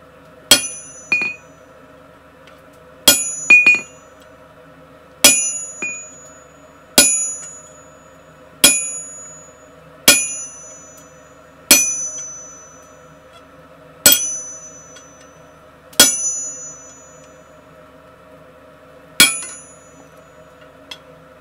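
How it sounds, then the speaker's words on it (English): A hammer strikes a punch into a hot forged workpiece for a flower bottle opener, giving about ten sharp metallic rings spaced a couple of seconds apart, each one decaying quickly. The strikes are close and loud, with a faint background hum. "I'll give it a punch over that workpiece."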